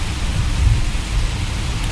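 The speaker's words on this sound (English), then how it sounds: "The rain's coming down like it's cats and dogs." Heavy rain pouring down onto a car on the road, a loud dense hiss and low drumming rumble that holds steady throughout with no voices.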